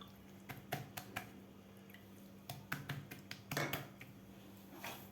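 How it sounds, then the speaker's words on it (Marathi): Water poured onto a wet cotton cloth spread on a rolling board, heard as faint, soft drips and light splashes in short scattered bursts in a quiet room. "त्यावर आपल्याला थोडंसं यावर पाणी घालायचं आहे."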